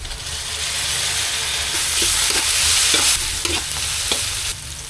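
Garlic and tomato sauté in a hot pan with onion, a loud steady sizzle broken by several sharp scrapes and knocks of a utensil stirring, with no talking.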